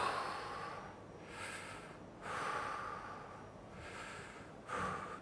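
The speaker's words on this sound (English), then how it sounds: "So if I take 3 deep breaths now." A person taking three deep breaths: three long, close, airy inhalations, each rising to a breathy peak and then trailing off, with no talk over them.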